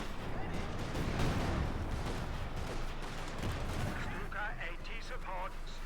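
A German Pak anti-tank gun fires in Company of Heroes 2 amid wider battle noise, with heavy booming shots and rumbling gunfire that runs on throughout, plus faint game voices toward the end.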